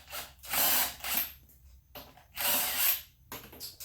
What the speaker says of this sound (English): a little cordless impact. All right, I'm going to take off all the rest of the screws.